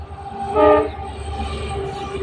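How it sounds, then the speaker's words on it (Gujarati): A loud train horn blares briefly over the steady rumble of a passing freight train, close by. "તો રસ્તામાં થોડીક માલગાડી નીકળી ગઈ છે"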